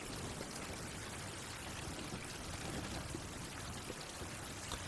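Steady rain in a survival video game, a dense continuous patter and wash of drops with no pauses, moderately loud and even throughout, no voices.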